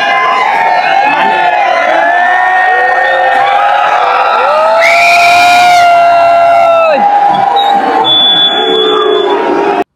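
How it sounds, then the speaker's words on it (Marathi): A large, dense crowd cheers and shouts at Shani Chowk during the Nashik Rangpanchami Holi festival. Loud, close crowd noise carries whoops and a shrill, buzzer-like electronic tone, and the din stays continuous throughout. "शनी चौकात भरपूर गर्दी झालेली आहे."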